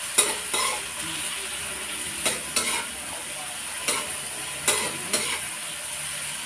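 Ginisang munggo, mung beans with plenty of tomatoes, sizzles steadily in a pan while a utensil stirs and scrapes it in repeated close strokes, with no talking.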